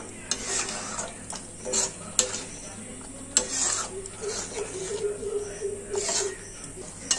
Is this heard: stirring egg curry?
yes